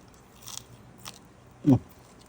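A bite into crispy fried snakeskin gourami fish gives one short, sharp crunch close to the ear after a couple of faint clicks, with no talking.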